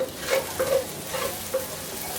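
About one and a half tablespoons of panch phoron spices fry in hot oil with garlic, a steady close sizzle broken by several light stirring scrapes.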